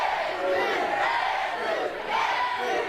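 A wrestling crowd at a heavyweight championship show cheers and yells in a dense, continuous roar, loud and sustained with swelling waves of shouting.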